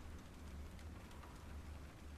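Rain in the video game Abandoned Souls, a faint, steady hiss of falling drops with a low rumble underneath, continuous and even with no voices.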